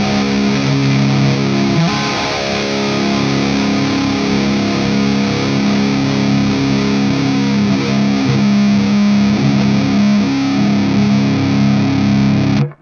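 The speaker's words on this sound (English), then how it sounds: "if you set the depth knob to 0 You control the parked position of the filter using the sweep knob" Electric guitar through a Walrus Audio Polychrome flanger pedal set with depth at zero, its filter parked by the sweep knob, gives a loud, continuous, distorted and effected tone held for several seconds, with no talking.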